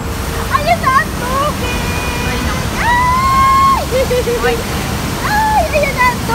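Water pours and rushes steadily into the Dubai Canal beneath a boardwalk bridge, a broad continuous roar under voices talking, with some sliding whistle-like tones on top.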